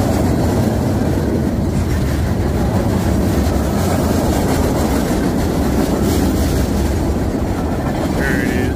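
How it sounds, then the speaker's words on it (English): A BNSF coal train rolls past at night on the far track, a steady loud rumble with wheel clatter that fills the whole stretch and never lets up. "Nice little meat tube coal train on the other side."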